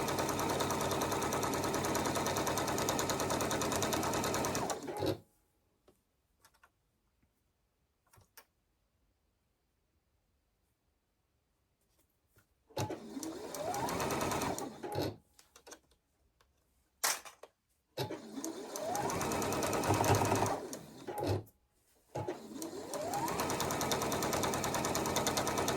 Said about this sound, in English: just line up that straight edge and sew them together.